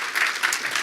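A church congregation claps together warmly on cue, a dense, steady patter of many hands filling the room for under a second.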